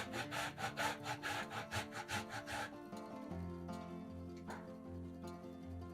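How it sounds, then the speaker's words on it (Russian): Cheese rubbed on a fine grater in a home kitchen while preparing an Easter appetizer, a close run of quick rhythmic rasping strokes for about three seconds, then stopping as soft background music carries on. "50 грамм сыра трем на мелкой терке"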